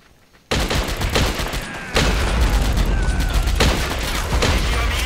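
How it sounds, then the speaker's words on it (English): Mortar and gunfire in the war game AS2: a loud, dense barrage of booming shots and rattling fire starts abruptly and continues throughout, with a second surge of heavier blasts partway through. "And that mortar is firing again."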